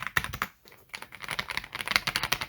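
Rapid typing on a Zoom65 mechanical keyboard, a dense run of close, crisp keystrokes with a brief pause near the start, heard alone without talk.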